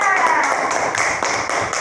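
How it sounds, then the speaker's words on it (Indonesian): Classroom of primary school pupils at SDN 101868 in Desa Sena, Batang Kuis, clapping for a classmate named Indra; a brief, dense patter of small hands, close and fairly loud, lasting under two seconds. "Tepuk tangan dulu untuk Indra"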